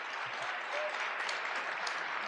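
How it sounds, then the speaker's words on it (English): Steady applause from an audience at a high school homecoming coronation, dense and even throughout, with a few voices faintly mixed in. "So if we could give a round of applause for them"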